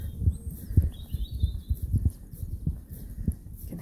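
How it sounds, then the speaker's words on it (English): Faint bird chirps and twittering sound in the distance, partly covered by close, rhythmic low thumps like footsteps. "Hear the fantastic bird calls."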